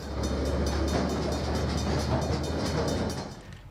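A Chinese-built DL class diesel locomotive hauls a train in New Zealand's North Island, its steady loud rumble and rhythmic rolling clatter close by, fading slightly at the end.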